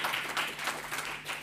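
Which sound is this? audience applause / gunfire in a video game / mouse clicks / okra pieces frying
audience applause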